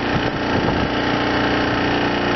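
A work tractor's engine runs steadily at idle, loud and close, a continuous low rumble with a slight knock early on and no voices.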